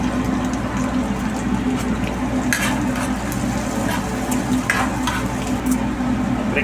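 Garlic and onion frying in olive oil, a steady bubbling sizzle with occasional stirring scrapes and taps, close and continuous throughout.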